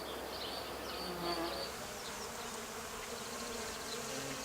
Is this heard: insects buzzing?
yes